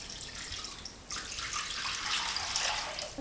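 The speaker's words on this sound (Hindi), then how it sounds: "अब इसमें 2 गिलास पानी ऐड करना है।" Water pours into a pan of frying vegetables seasoned with soy sauce and vinegar, a splashing, hissing rush that starts about a second in and carries on loudly to the end.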